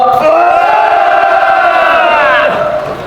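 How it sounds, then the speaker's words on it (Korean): A large outdoor crowd at a candlelight protest rally against railway privatization roars a loud, sustained collective shout, many voices merging into one long cheer that fades out toward the end. "우리 정교조 선생님께 큰 함성으로 응원 보내주셨으면 고맙겠습니다."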